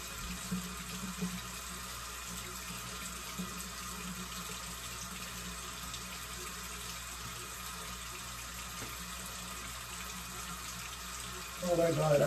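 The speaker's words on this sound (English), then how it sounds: "We're gonna wash our whole face." Water running steadily from a bathroom tap into a sink during face washing, a constant close hiss that holds throughout, with a slight splashing surge near the end.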